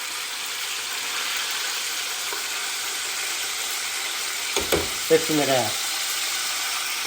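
Wood duck fingers fry in hot oil, a steady soft sizzle running throughout with a few brief clatters near the end as pieces are moved, and a voice speaks briefly.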